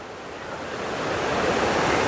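River water below Johna Falls near Ranchi, swollen in the rainy season, roars as a dense, continuous rushing wash that grows slightly louder and stays close and steady, with no voices.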